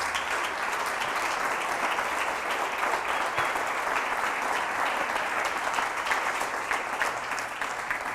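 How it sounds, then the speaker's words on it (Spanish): Church congregation applauding during a Spanish-language sermon, with steady, dense clapping that stays loud and even for the whole stretch and has no talk over it. "Denle un aplauso al Señor."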